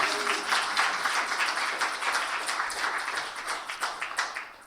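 Audience at an awards celebration breaks into a round of applause, steady dense clapping from a crowd that gradually thins and tapers off.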